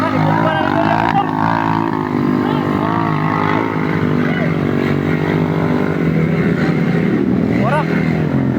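Motorcycle engine running continuously close by, a loud steady drone with slight pitch shifts, people talking over it.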